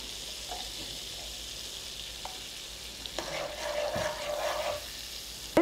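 Butter melting with ghee in a pan over low gas while making chicken bhorta, giving a soft, steady sizzle with light stirring scrapes. It grows a little busier near the end, with no talking.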